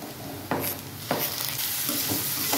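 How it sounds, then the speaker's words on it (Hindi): Sprouted mung beans and tomato frying in a pan, with a steady close sizzle under scraping stirring strokes that come in a few distinct bursts and no talking. "चलाएंगे सब को भूनेंगे अच्छा से।"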